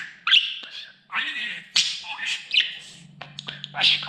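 A pet budgerigar chirps and squawks in short, bright bursts at close range, with a faint low hum underneath toward the end.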